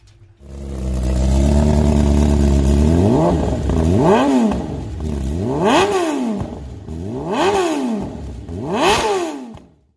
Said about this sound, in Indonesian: Itu adalah bunyi motor.